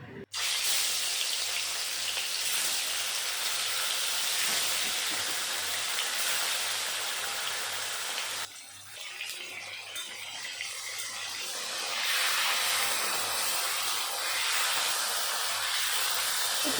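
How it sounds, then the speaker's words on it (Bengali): Marinated fish lands in mustard oil heated in a wok over a gas flame and sizzles with a steady, bright hiss. The hiss dips briefly partway through, then swells back up and keeps crackling. "তেল ভালো করে গরম করে দিয়ে দেব মেখে রাখা মাছগুলো।"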